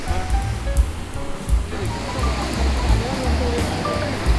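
Rushing river water near a waterfall at Perumbankuthu, a steady broad roar close by with faint voices and birdsong-like tones scattered over the flow.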